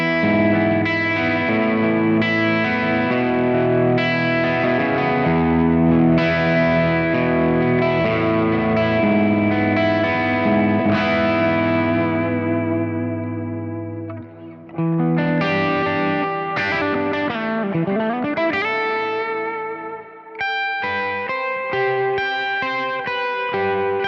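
An electric guitar on its bridge pickup, run through a Kemper Profiler with natural reverb, rings out sustained chords and single notes in a worship style, with a brief dip before bright arpeggiated phrases carry on.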